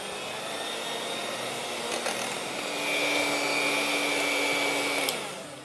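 Broadband whirring of a mixer whisking tiramisu coffee cake ingredients, steady and fairly close, shifting pitch slightly partway through and stopping abruptly near the end, with no talking.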